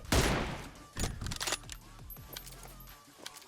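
Rapid gunfire bursts in PUBG Mobile, with a heavy opening volley followed by several sharp shots and clattering shell-like ticks, loud and close, then trailing off.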